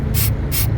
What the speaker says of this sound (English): Spray it down after you shake it